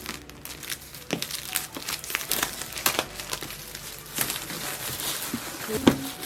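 Plastic packaging around AirPods Max headphones being torn open and crinkled up close, a steady run of crackling rustles with sharper crunches scattered throughout, no voices.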